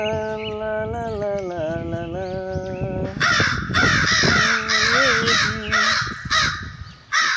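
Several crows caw loudly and close by, harsh repeated calls overlapping in a busy stretch, with other bird calls and tonal sounds running beneath earlier on.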